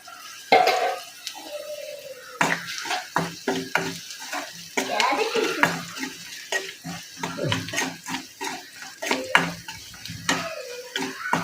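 An oats mixture with salt is stirred as it roasts in a pan, producing repeated close scraping and rustling strokes in an uneven rhythm over a light background sizzle.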